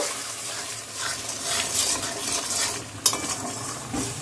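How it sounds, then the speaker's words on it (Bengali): Spices with salt and turmeric are stir-fried in hot oil with a splash of spice-rinsing water, giving a steady close sizzle under continuous scraping and stirring, with one sharp utensil clink near the end. "এবার একটু মশলা ধোয়া জল দিয়ে কষিয়ে নেবে ভালো করে, তেল ছাড়া পর্যন্ত।"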